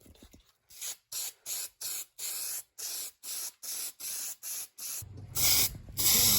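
An aerosol can spray-paints a truck part in repeated bursts, a dozen short loud hisses with brief pauses between, then a longer rougher spray at the end.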